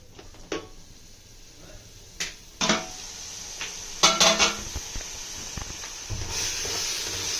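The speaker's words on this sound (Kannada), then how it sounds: "ಅದ್ರ ಹಸಿ ಸ್ಮೆಲ್ ಹೋಗೋ ತನಕ ಇದನ್ನು ನೀಟಾಗಿ ಫ್ರೈ ಮಾಡ್ಕೋಬೇಕು" Masala for prawn biryani frying in a pan, a steady hiss of cooking broken by several sharp metallic clanks and scrapes of a spoon against the pan, close and fairly loud.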